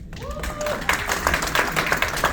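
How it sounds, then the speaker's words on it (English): A crowd at a Rebuild Dominica tea party and awards ceremony breaks into applause for an honoree. A voice is briefly heard at first, then the clapping swells and continues with uneven, overlapping claps. "A round of applause for Anya."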